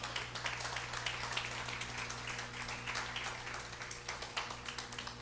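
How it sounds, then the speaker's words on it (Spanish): A church congregation applauds the Lord during a sermon, many hands clapping in a continuous, slightly distant patter over a steady low hum, with no voices standing out. "Dale un aplauso al Señor"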